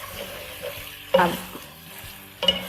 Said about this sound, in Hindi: गोश्त को कर लिया ब्राउन, फ्राई कर लिया थोड़ा सा।